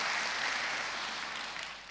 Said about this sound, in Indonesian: Tepuk tangan untuk Bapa itu.